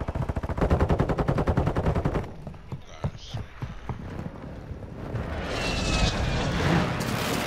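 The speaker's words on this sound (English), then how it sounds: "Friendly airstrike in the AO." A friendly airstrike in Call of Duty: Modern Warfare II: dense, rapid gunfire bursts rattle for about two seconds, then scattered shots give way to a rising, roaring aircraft sweep that swells and holds toward the end.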